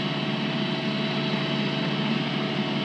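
A tractor engine runs steadily during tree root pruning on a golf course, a continuous, even drone at moderate level with no breaks or voices.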